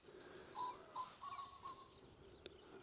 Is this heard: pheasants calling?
yes